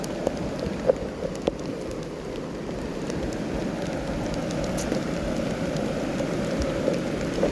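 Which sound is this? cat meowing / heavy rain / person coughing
heavy rain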